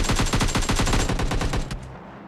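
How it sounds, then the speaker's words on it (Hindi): Rapid automatic AKM rifle fire in an online battle-royale video game, a loud, dense burst of closely spaced shots lasting under two seconds before tailing off into a fading echo. "मतलब AKM नो स्कोप"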